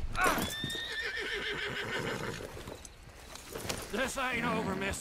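A horse whinnies loudly in the video game Red Dead Redemption 2, followed by clip-clopping hooves and more neighing, with voices talking over parts of it.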